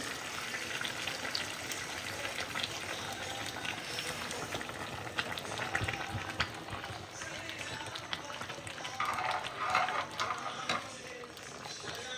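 Hot water goes into a pot of spiced, braised meat and comes to a boil, a close bubbling, hissing churn that swells and runs on steadily without pause.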